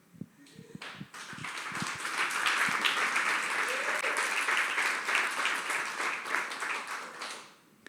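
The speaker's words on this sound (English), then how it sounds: "Another round of applause for Ray Parks." An indoor audience breaks into a burst of applause that swells within a couple of seconds, holds as dense steady clapping, then tapers off, with a few isolated claps before it builds.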